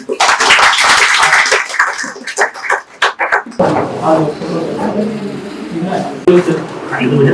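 Enthusiastic applause breaks out at a family celebration in India, a dense burst of clapping close by that fades and returns in waves, with voices chattering and cheering over it.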